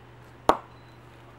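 A cricket ball tapped once against the face of an Adidas Libro bat, a mid-to-low profile willow bat with a thick bottom and slim shoulders, giving a single sharp ping with a short ringing decay in a quiet room.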